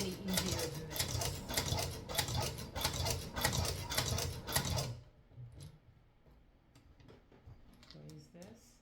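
A hand-cranked leather sewing machine joins two leather pieces with a rapid, even ticking of stitches for about five seconds, then stops, leaving faint handling clicks and light movement.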